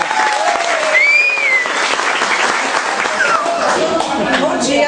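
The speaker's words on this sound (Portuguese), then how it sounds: "palmas para Sueli" An audience applauds a nutritionist named Sueli as she is welcomed to give a talk about food, with steady, dense clapping filling the whole stretch and a few voices and whoops rising over it.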